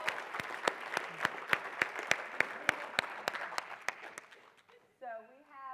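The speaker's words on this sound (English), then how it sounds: "can we get a round of applause for Kansas and Seth?" Sparse applause from a small audience at a talk on the opioid and stimulant crisis, a slow run of distinct claps that thins out before a voice begins speaking.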